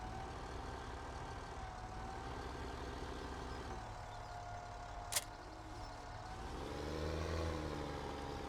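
A tractor engine in Farming Simulator 17 drones steadily at idle and moderate revs, its pitch rising and falling slightly, with a brief sharp click partway through and a throatier swell near the end.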